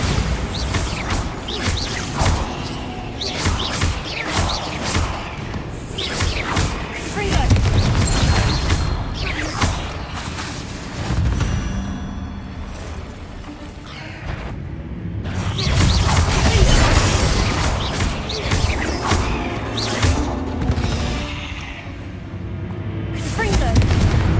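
Bombarda spell blasts in the Hogwarts Legacy video game, booming explosions and crashing impacts repeating through a busy combat mix, with a voice calling out spells in between.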